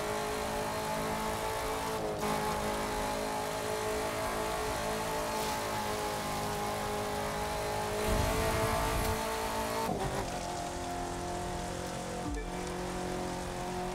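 Car engine in The Crew 2 racing game, a sustained loud engine note with shifting pitch and brief revving changes around gear shifts, continuous with no talk.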